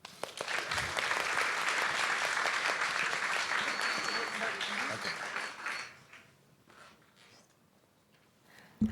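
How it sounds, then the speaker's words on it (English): An audience at a tech talk applauds loudly and steadily for about six seconds before the clapping fades into quiet room sound, with a few scattered voices near the end. "let's give a great round of applause for Tiya Gordon"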